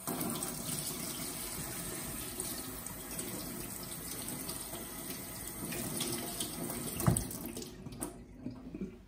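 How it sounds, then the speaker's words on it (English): Steady running tap water splashing as a lemon is rinsed under the faucet in a kitchen sink, a continuous broadband hiss that ends with a few louder splashes and a brief knock near the close. "I'm going to rinse the lemon."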